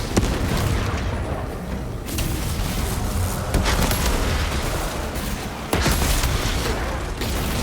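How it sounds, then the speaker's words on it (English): A frag grenade in the Warhammer 40,000 shooter Space Marine 2 detonates among constant loud gunfire and booming battle noise, with a couple of sharper blasts standing out from the dense, continuous din. "Deploying frag grenade!"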